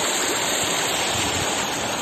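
Loud, continuous roar of the Minab river rushing downstream in summer flow, dense and unbroken like a waterfall, close and steady throughout without any voices.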